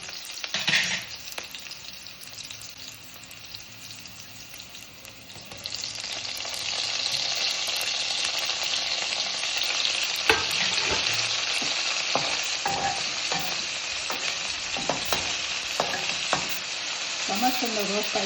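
Tomato and onion roasting in oil for okra huli, a continuous loud sizzle that swells after a few seconds and keeps going, broken by occasional scraping stirs of a spoon in the pan; no voices.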